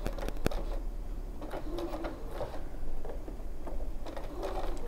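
Domestic sewing machine running a straight stitch with a standard 1C foot, sewing forwards along fabric pockets for an embroidered make-up brush holder; close, steady mechanical whirring and clatter in short repeated bursts.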